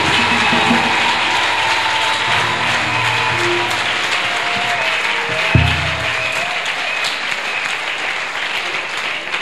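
A church congregation applauds continuously, a dense, loud wash of clapping that carries on without a break, with a faint thump partway through.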